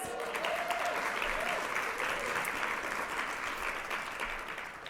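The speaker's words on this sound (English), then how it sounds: "And Wells Fargo, another round of applause." Sustained audience applause fills a leadership summit hall, a dense steady wash of many hands clapping that continues evenly throughout.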